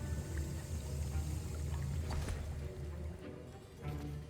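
Liquid sloshing and swirling as a potion is stirred in a cauldron in the Hogwarts Legacy video game, a steady watery churn with a low hum underneath, moderately quiet.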